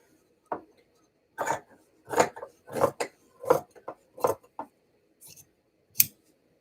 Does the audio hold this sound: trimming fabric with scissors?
yes